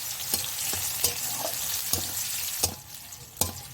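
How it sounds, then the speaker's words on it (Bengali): Chopped onions fry in a pan for rohu fish kalia with a loud, continuous close sizzle. A spatula scrapes through them in regular strokes, roughly every three-quarters of a second, and no one speaks. "পেঁয়াজ কুচি দিয়ে আর একটু নাড়াচাড়া করে নেব।"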